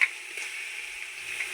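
Garlic paste frying with softened onions in a pot for Palakkadan mutton dum biryani, a steady close sizzle that holds evenly throughout with no voices.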